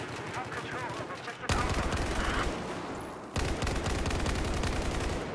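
Rifle fire aimed over iron sights in Battlefield 4, dense rapid bursts that cut in abruptly and hammer loud and close, with a voice speaking briefly underneath.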